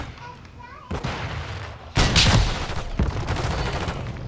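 Shotgun fire in a hardcore team deathmatch video game, heard as sharp booming blasts, with a loud one about midway followed by rattling echoes and further shots, mixed with players talking.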